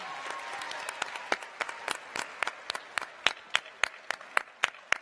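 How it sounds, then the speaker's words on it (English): A school crowd at a Mars rover naming event applauds a sponsor, giving a soft, fairly distant patter of many hands in which individual sharp claps stand out more and more toward the end. "Give her a big round of applause."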